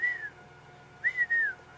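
Water thick-knee calling at night near a camp waterhole: a few shrill, strident whistled notes sliding down in pitch, one brief call then two more close together, fairly near against quiet night background.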